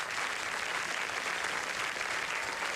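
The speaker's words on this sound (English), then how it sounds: "Have a round of applause for Easter." An audience applauds continuously in a studio setting, dense steady clapping holding at an even level throughout with no pauses.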